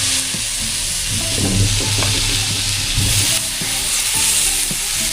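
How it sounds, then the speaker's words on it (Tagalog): Tilapia fish frying in a pan of sautéed garlic, onion and ginger, giving a steady close sizzle with clattering stirring and scraping throughout, no voices. "Nagisa-gisa na po natin, lagay na po natin yung ating mga tilapia."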